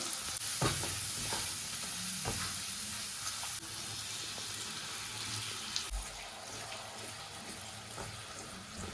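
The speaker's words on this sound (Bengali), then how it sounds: "এখানে একটা বড় পেঁয়াজ আছে একটু দিয়ে দিলাম ছোটো টমেটো স্বাদ মতো নুন হলুদ একটু জিরের গুঁড়ো একটু ধনের গুঁড়ো" Onion, tomato, salt, turmeric, cumin and coriander powder frying in a pan, a continuous close sizzle with intermittent stirring scrapes and clinks.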